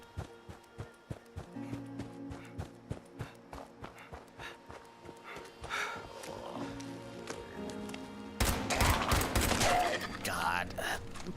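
Pipe pistol gunfire in the video game Fallout 76: a fast, uneven string of sharp shots, fairly close, followed by a louder, noisier burst of combat sound near the end.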